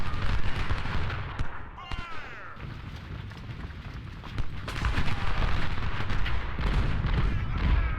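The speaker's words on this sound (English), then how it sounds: "there's some great artillery shots going on" Artillery fire in the Civil War battle game Ultimate General: Civil War, heavy booming volleys and rumbling bursts rolling over one another, loud throughout with a quieter stretch in the middle.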